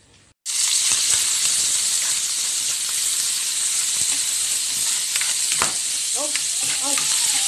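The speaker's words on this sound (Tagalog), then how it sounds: "Gigisa lang natin." Ground meat and mixed vegetables hit a hot pan and start a loud, steady sizzle. The frying continues with occasional scraping stirs and a brief exclamation near the end.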